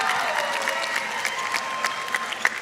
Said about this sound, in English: let's hear a round of applause for both these teams